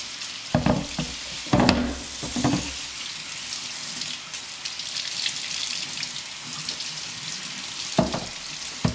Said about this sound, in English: turn on the water, and just get it all around.